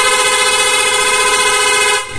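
PIAA Sniper 155 dual car horn sounding one continuous, loud, bright honk up close for about two seconds before cutting off, with no talking.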